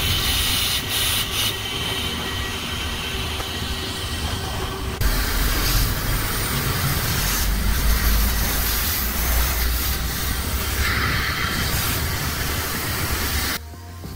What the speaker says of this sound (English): I found massive air leak in the main supply valve that connects to the air tank